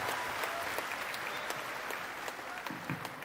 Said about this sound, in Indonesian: Tepuk tangan buat Aida.